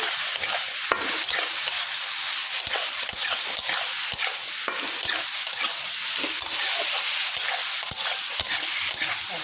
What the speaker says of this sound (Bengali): পালং শাকের তরকারি একটু নিরামিষ করতেছি বড়ি দিয়ে, আদা জিরা কাঁচা লঙ্কা বাটা দিয়ে নাড়বো